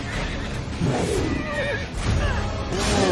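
Horses neigh and whinny repeatedly in a movie battle scene, loud shrill calls rising over dense, crashing battle noise.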